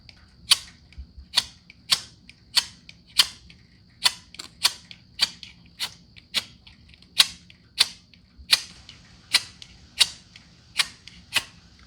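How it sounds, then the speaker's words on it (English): Fire starter struck repeatedly over dry gunpowder on a dry plate, giving a steady series of about eighteen sharp, bright scraping clicks roughly every half second, close and alone over faint low background noise. "I'm hearing tiny little sparks."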